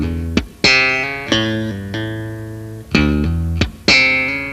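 Bass guitar runs through the second section of a tapping exercise: percussive thumb slaps alternate with legato hammer-ons, a handful of bright, close attacks with ringing notes between them, and no voices.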